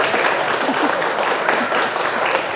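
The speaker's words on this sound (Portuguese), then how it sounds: "uma salva de palmas para ele, por favor" A crowd at a comics event gives a loud, sustained round of applause, a thick, continuous roar of clapping from many hands close by.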